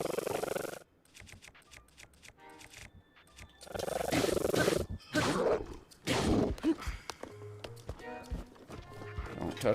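Horse hooves clip-clopping and a whinny in Zelda: Breath of the Wild, moderately loud bursts of trotting and snorting with gaps of quieter game ambience between them.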